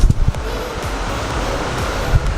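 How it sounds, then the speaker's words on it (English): Tegenungan Waterfall in Bali roars as a broad, continuous wash of falling water, close and loud, with wind buffeting the microphone and a few low thumps. "There's the waterfall."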